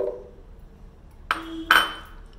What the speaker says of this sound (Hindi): जार में अंगूर डाल रही हूँ